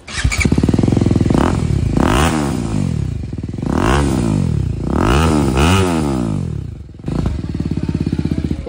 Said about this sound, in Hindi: यशोमोरा का R79 जो कि कार्बन फिनिश के अंदर है,